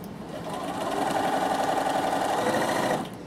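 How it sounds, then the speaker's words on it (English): A Bernina overlocker runs steadily along a garment seam for about three seconds, a close, continuous high-speed whirring hum with no talk over it. "I'm going to overlock that seam, press it up and top stitch it"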